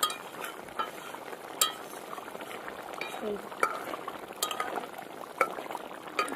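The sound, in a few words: rui fish curry cooking in the pan after adding garam masala paste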